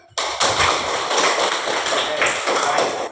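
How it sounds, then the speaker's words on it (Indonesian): Children in a classroom clap their hands together, a dense burst of many small palms that starts abruptly and keeps going steadily for about three seconds, close and loud. "tepuk tangan"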